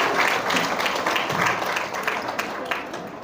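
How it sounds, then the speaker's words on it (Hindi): A crowd of railway workers at an International Women's Day gathering applauds for the Lucknow division, a steady wash of clapping at moderate loudness that tapers slightly toward the end. "ज़ोरदार तालियां हो जाए लखनऊ मंडल के लिए"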